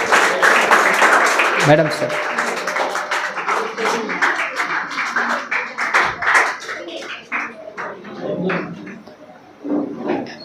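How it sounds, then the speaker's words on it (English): An audience claps for a girl receiving first prize at an English academy confidence-building program, with the dense clapping thinning out toward the end while a few voices talk. "Big round of applause for her."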